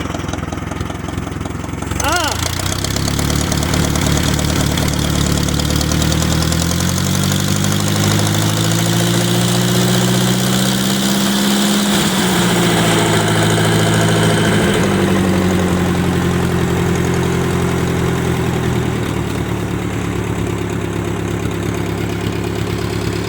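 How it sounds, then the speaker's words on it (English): A Ford 660 tractor engine fitted with a new carburetor runs steadily at close range, its low rumbling idle rising and settling through a couple of throttle changes, loud and continuous throughout. "That's a good running tractor now."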